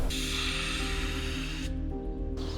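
Spray paint hisses onto a Safari car in a steady continuous jet, close and fairly loud, with the hiss briefly dropping in brightness near the end before resuming.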